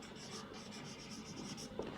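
Pen or marker writing the closing word at the end of a geometry proof about circles and congruent triangles, a soft steady scratching stroke close by for about two seconds, quiet and continuous with a small tap near the end.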